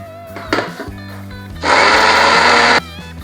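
A kitchen mixer grinder blends green chillies and ginger with a little water into a green paste for tricolour dhokla, a loud steady whir lasting about a second, following brief clatter and a low background hum.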